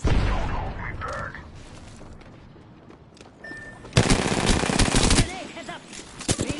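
Automatic weapon fire in the video game Apex Legends crackles in loud, rapid bursts, loudest in a sustained stretch midway, mixed with game effects and a voice speaking over the action.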